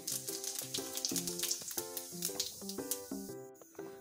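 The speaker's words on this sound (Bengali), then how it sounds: "এই গরম তেলের উপরে আমরা প্রথমে ফোড়নে যোগ করলাম একটি শুকনো লঙ্কা, আর যোগ করব 1 চা চামচ গোটা জিরে" A dried red chili and whole cumin seeds hit hot oil as the tempering for a bottle gourd and shrimp curry, a soft, steady sizzle partly buried under louder background music, with no talking.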